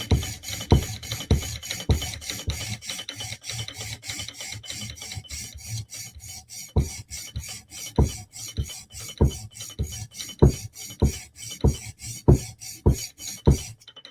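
A Chris Reeve Sebenza Tanto knife blade scrubs back and forth on a sharpening stone in steady rasping strokes, close and dry, about a dozen distinct passes with short gaps, heard alone.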